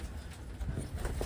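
Pigeons coo indoors in a crowded loft of birds kept at a Taiwanese Wantai pigeon sale, soft low murmuring coos rising and falling over a steady hum of birds moving about.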